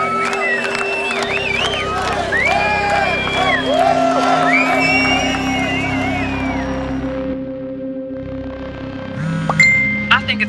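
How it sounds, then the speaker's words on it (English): An angry crowd outside the blocked Mercier Bridge yells and whoops at the effigy of a Mohawk warrior. Many voices shout and jeer over one another in a loud, continuous din. "The crowd vents its anger on the effigy of a Mohawk warrior,"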